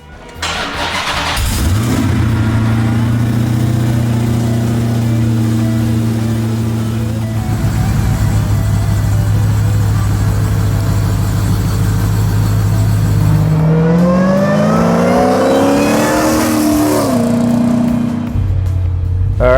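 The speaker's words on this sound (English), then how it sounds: "we're gonna put in some cameras and we're gonna go for a drive" A 900 hp Hellcat-powered 1970 Plymouth Superbird restomod starts up and idles loudly with a deep, steady rumble close by, then revs and pulls away with a rising, surging engine note.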